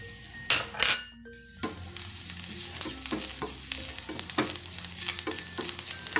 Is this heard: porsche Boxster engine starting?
no